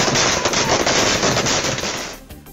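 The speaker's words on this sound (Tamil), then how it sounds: "தமிழ்நாடு முழுவதும் விஜய் ரசிகர்கள் பட்டாசு வெடித்து கொண்டாட்டம்" Firecrackers burst in a dense, rapid crackling barrage as fans in Tamil Nadu celebrate a political party launch. The noise is loud and close, then thins out at the end.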